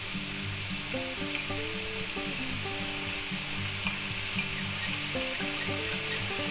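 Garlic, vegetables and Vienna sausage stir-fried in a pan, a dense continuous sizzle running loud throughout beneath background music, with no talk.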